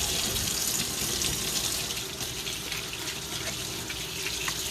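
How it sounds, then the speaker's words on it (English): Water gushes steadily from a kitchen tap as hands are washed, a close, constant hiss and splash lasting about five seconds with no talking. "make sure you wash your hands"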